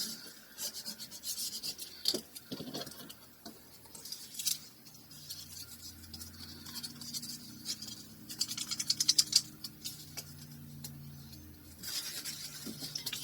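A spatula smoothing paper onto a playing card, producing soft scraping and rubbing strokes close by in irregular bursts, quiet and papery with brief faint rattles in between.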